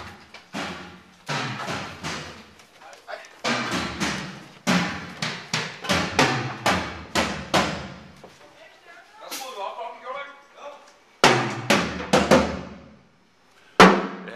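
A drummer sound-checks a drum kit on a tour stop with loud, repeated thudding hits in bursts, some close together and some spaced out, with people talking in between.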